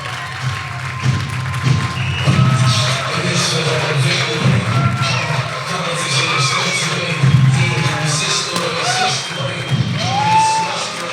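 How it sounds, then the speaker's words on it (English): A live crowd at an NBA 2K19 announcement event cheers and whoops steadily for Giannis Antetokounmpo, with loud sustained crowd noise throughout and scattered shouts rising above it. "Let's give him another round of applause."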